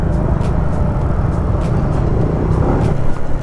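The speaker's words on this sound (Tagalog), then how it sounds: "So, grabe traffic dito sa tulay" Heavy morning traffic crawls over a bridge with a loud, continuous low rumble of engines and road noise close by, broken by faint periodic clicks and small bursts, with no voices heard.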